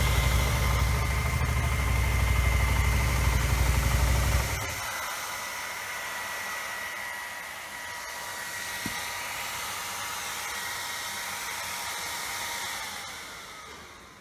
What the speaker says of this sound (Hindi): टाइट सिटी कंजेशन में अगर आप इसे चलाएंगे तो इसका इंजन ओवरहीट होता है और तब भी इसमें कूलिंग फैन चालू हो जाता है